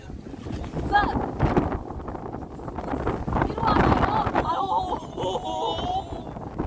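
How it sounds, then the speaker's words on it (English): Wind gusts across the summit of Mount Batur in Bali, a rough, buffeting roar close on the microphone that swells and eases, with voices speaking through it. "It's windy."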